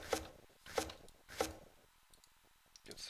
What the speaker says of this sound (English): I'm going to go ahead and get back to chopping some trees with the other minions